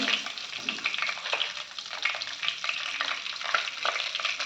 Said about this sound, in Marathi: आता ही फोडणी झाली त्याच्यात हिंग टाकायचे